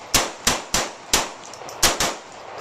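Repeated gunshots from a .45 auto pistol, six sharp loud reports at an uneven rhythm, each with a short ringing decay.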